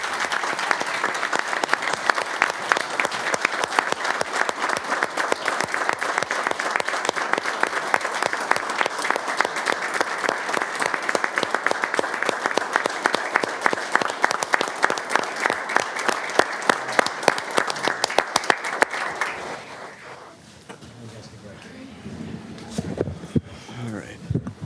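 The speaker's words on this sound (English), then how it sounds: "let's give our first responders one more round of applause" Sustained audience applause at a city council meeting, a dense wall of clapping held steady for about twenty seconds before tapering off into quieter room noise.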